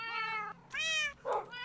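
Cats meow indoors in three distinct calls, the middle one longest, moderately near and fairly quiet, with no talking.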